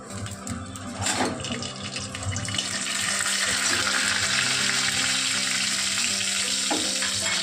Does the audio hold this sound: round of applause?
no